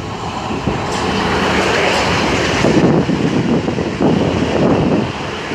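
A South Western Railway Class 444 electric train on the Waterloo to Weymouth service passes at Eastleigh on the main line, a loud, steady rush of wheel and air noise with wind buffeting the microphone.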